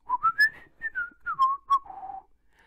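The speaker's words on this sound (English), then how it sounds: "Deaderick happened to be whistling" A lone person whistles a short, clear melodic tune of about ten sliding notes, close and distinct against silence in an amateur at-home museum theatre performance.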